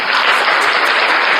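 Audience applause at a gathering in Terengganu, Malaysia: a dense, steady wash of many hands clapping, loud and close, with no voices standing out.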